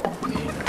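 Chickens clucking briefly and close by, a quick burst of overlapping clucks and squawks lasting under a second.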